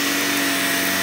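A vacuum cleaner runs steadily and close by, a continuous broadband whooshing roar with no pauses and no voices.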